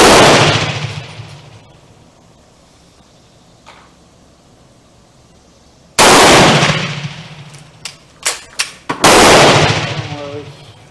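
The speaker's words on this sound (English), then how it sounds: "I'm shooting at the middle target." A Steyr M95 long rifle chambered in 8x50R fires at targets outdoors, with three loud, sharp gunshots ringing out, each followed by a decaying echo, plus some metallic bolt clatter between shots and no talking.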